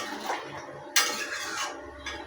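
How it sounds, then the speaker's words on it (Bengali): Stirring a chorchori vegetable mix in a metal kadai, with scraping and clinking of a utensil against the pan in a few short bursts, fairly close and with no talk over it. "কড়াইয়ে ঢেলে দিয়ে এবার আমি নাড়তে থাকছি।"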